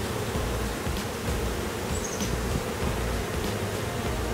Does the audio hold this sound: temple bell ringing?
no